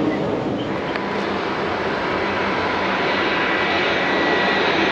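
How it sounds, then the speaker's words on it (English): Steady roar of an airplane landing at Key West Airport, heard from near a boat dock, a loud continuous broadband rumble that stays even throughout with no talking. "You can see the beautiful landing here at Key West Airport"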